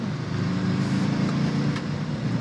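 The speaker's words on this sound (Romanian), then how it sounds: "Și se aude și frumușel motorașul. Motorul ăsta de Mitsubishi." Mitsubishi engine in a JAC T8 Pro pickup accelerating on the road, a steady, moderately loud engine drone heard from inside the cab along with road noise, with no speech.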